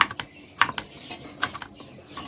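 A knife cutting bottle gourd in a home kitchen, a series of close, sharp irregular chops and clicks against a board, with short pauses between strokes and no talk.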